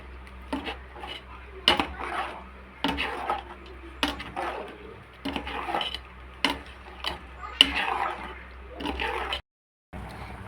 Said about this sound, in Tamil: நம்ம அரைச்சி வச்ச தேங்காவை அது கூட போட்டு மிக்ஸ் பண்ணிக்கலாம்